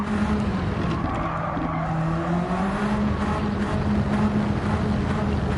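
Peugeot 205 GTI in Gran Turismo 7 with its turbocharged engine droning steadily while the front tyres squeal and skid through a corner, loud and continuous throughout.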